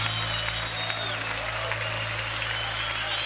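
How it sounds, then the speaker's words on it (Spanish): A church congregation applauds loudly and steadily in a large hall, a dense continuous wash of clapping with a faint hum underneath. "Levanta tu aplauso a él fuerte."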